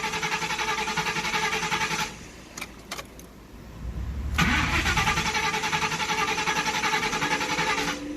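Car engine cranking over and failing to start, a loud rapid starter churn that stops for about two seconds with a few clicks, then resumes and keeps grinding without catching.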